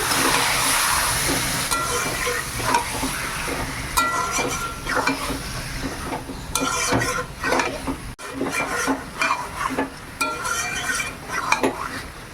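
Marinated chicken sizzles loudly in a pot for chicken kasha, with steady frying hiss and repeated scraping and clinks of a spoon stirring against the metal, close and continuous.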